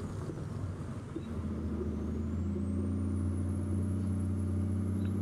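Truck engine in Euro Truck Simulator 2 straining uphill in second gear on a cliffside mountain road, a steady loud low drone with a rising high whine, continuous and alone.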